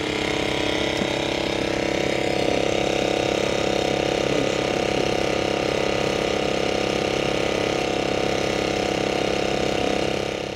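Mechanics wrenching on Dakar rally cars, a Mitsubishi among them, in a bivouac: steady dense mechanical clatter and ratcheting over a continuous idling engine hum, close and loud throughout with no pauses.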